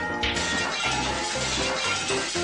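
Glass shattering in the video game Hatoful Boyfriend's Christmas display scene, a bright crash near the start followed by sustained tinkling and music-like tones, fairly loud throughout.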